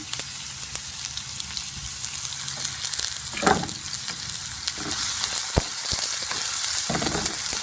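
Chopped onion sizzles in hot oil in a pan, a steady close hiss with a few scraping stirs and clinks, no voices.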